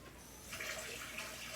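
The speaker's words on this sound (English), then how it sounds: "usually I run some hot water over the scoop" Hot water runs from a kitchen tap over an ice cream scoop, a steady, faint hiss and splash that continues without pause.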